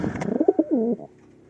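Pigeon cooing inside a pigeon loft, a close, throaty series of quick rolling coos ending in a longer drawn note, followed by quiet.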